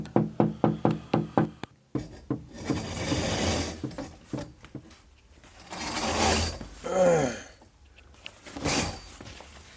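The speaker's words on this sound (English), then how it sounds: "He's got a stick that he props up against the wall outside, and he just sort of taps on my window kind of lightly" A stick taps lightly on a bedroom window in a quick run of regular knocks, followed by bursts of broadband rattling and scraping noise, all close and fairly loud.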